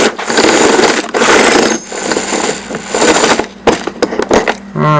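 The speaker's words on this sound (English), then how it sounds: "After you trim, chamfer over it." A hand chamfering tool grinds against the mouth of a trimmed .50 BMG brass cartridge case, giving loud, continuous scraping bursts with brief pauses and a few sharp clicks near the end.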